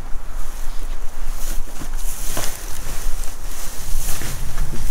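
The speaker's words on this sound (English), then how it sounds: "Oh, the wind. It's cold out tonight." Strong wind gusts blow steadily outdoors on a cold winter night near a dumpster, a continuous loud rushing roar with buffeting against the microphone.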